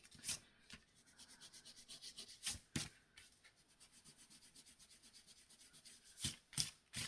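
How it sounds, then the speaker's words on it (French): Pencil marks being rubbed out with an eraser on card while making a pop-up card: close, steady rubbing strokes broken by a few louder, sharper scrubbing bursts. "Donc je vais gommer"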